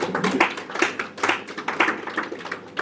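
An audience at a technical presentation claps, a steady patter of many hands over a few seconds, moderately loud and without talk.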